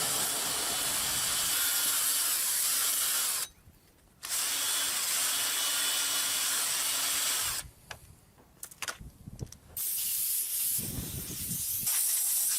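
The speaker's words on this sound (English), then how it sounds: "blow it with the air compressor" Air compressor nozzle blowing out cylinder head bolt holes on a Toyota Sienna 3.3L engine, long loud hissing blasts with two short pauses and light clatter between them, no talk.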